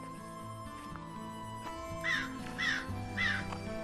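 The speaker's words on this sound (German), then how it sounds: "Diese Krähen, die scheinen mir zu folgen." Three harsh crow caws in quick succession in a radio-play forest scene, moderately close, over quiet background music with soft rustles and clicks.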